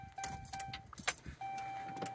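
The ignition key of a truck with a Cummins 6.7 diesel turns on with a soft jingle of keys and plastic clicks while steady electronic dash tones sound, quiet and close, and the engine stays off.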